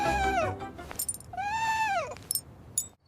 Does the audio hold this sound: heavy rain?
no